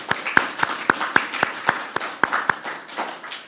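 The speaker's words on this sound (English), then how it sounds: "So can we give him a round of applause for his message?" A church audience at a Sunday service applauds after a sermon, with a short run of crisp, rhythmic claps nearby that loosen and soften toward the end.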